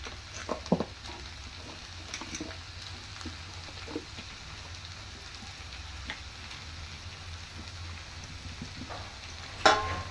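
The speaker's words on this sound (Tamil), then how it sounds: "புடலங்காய், கேரட்டு, பூசணிக்காய், பீன்ஸ் எல்லாத்தையும் இதில் போட்டுறேன்." Snake gourd, carrot, pumpkin and beans cook for aviyal in a pan, giving a steady soft sizzle with a few scattered clinks and stirring knocks, and a sharper clatter near the end.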